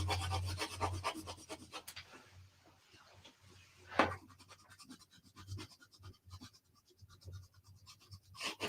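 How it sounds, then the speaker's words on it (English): A crayon rubs and blends color on paper for an Earth drawing: soft, quiet scratchy strokes in irregular bursts with short pauses between, heard close up. "I'm blending it together with my crayon"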